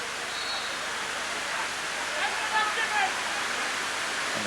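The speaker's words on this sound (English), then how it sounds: "the rain starts to persist down here at Dukes Road. It's very heavy" Heavy rain pours steadily over a football ground at Dukes Road during a match, a dense continuous hiss with faint crowd or voice sounds drifting underneath.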